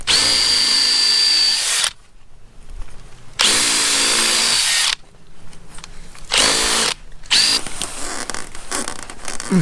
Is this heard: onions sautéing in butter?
no